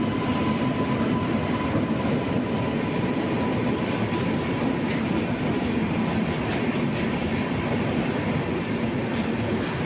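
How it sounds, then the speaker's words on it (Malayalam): The Dibrugarh Vivek Express, India's longest-distance train, rolls into Palakkad Junction with a steady, loud rumble of wheels and carriages that fills the whole stretch, a faint tonal whine running through it. "ഇന്ത്യയിലെ ഏറ്റവും കൂടുതൽ ദൂരം സഞ്ചരിക്കുന്ന ട്രെയിനാണ് നമ്മുടെ ദിബ്രുഗഡ് വിവേക് എക്സ്പ്രസ് പാലക്കാട് ജംഗ്ഷനിലേക്ക് വന്നിരിക്കുകയാണ്"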